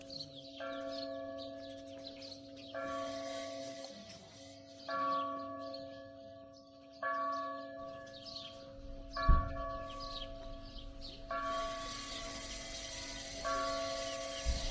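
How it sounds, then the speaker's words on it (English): An Orthodox monastery church bell in the Jordan Valley rings in a slow, regular series of strikes, each one lingering, heard from a distance with faint birdsong around it. "here's the bell ringing"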